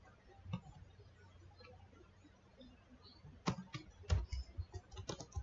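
Quiet, close typing on a computer keyboard while entering router configuration commands, scattered taps at first, then a quicker run of clicking keystrokes toward the end.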